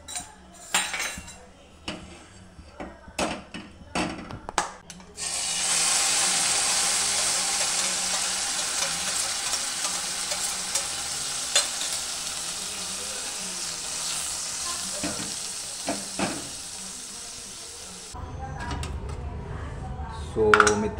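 Chutney heats in a little oil in a kadhai, giving a steady, close hiss that lasts about thirteen seconds, with clattering utensil knocks and clinks before and after it.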